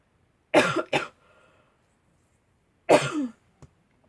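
Three sharp coughs close to the microphone: a quick pair, a pause of about two seconds, then one more, with near silence between.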